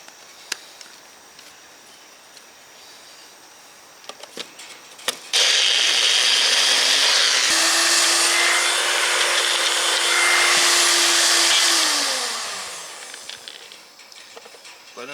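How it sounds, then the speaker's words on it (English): A blender whirs through ramp pesto with a dash of lemon juice, its motor spinning up, holding a steady loud drone for several seconds, then winding down, with faint clatter before and after. "Blend it nice and thorough, you know the drill."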